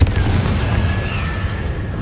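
The Confringo spell goes off in Hogwarts Legacy as a loud, deep, booming blast, with a thin whistling tone hanging over the rumble as it fades.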